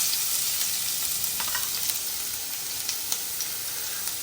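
Ginger and garlic frying in hot coconut oil in a pan on a camp stove aboard a boat, a close, steady sizzle with faint crackles and no talk.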